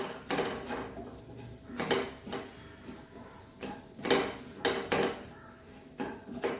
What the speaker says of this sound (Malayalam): ഇനി നമുക്കിതൊന്ന് ഇളക്കി കൊടുക്കാം.